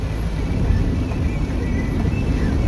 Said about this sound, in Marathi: मुसळधार पाऊस.